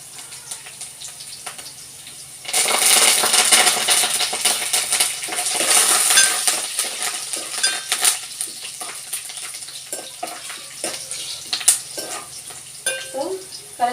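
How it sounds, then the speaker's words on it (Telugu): Onions frying in a pan burst into a loud, close sizzle when curry leaves go in. The hiss then settles gradually, with occasional stirring scrapes and clinks. "ఆనియన్ వచ్చేసి ఫ్రై అయిపోయాయి. దీంట్లోకి వచ్చేసి ఒక 2 నిమిషాలు కరివేపాకు తీసుకుంటాను నేను."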